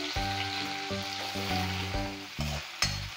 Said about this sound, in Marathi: या फोडणीमध्ये आता आपण हे रताळ्याचे काप टाकून घेऊया